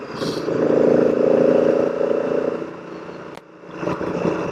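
A 2018 Honda Africa Twin Adventure Sports motorcycle, geared down slightly, gives a steady, loud, close induction drone while riding, with a brief dip before the sound builds again.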